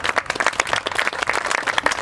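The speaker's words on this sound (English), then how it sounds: "Let's give a round of applause for Mayor Lentz here." Brief burst of crowd clapping for a mayor at an inclusive park groundbreaking ceremony outdoors, close and fairly loud with sharp individual claps throughout.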